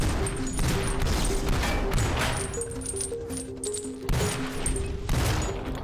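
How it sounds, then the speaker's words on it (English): Rapid gunfire from robot enemies rains down on a player in a VR robot combat training game, dense and continuous bursts of shots layered with tonal game effects and crashing impacts throughout. "Who's shooting me? From where?"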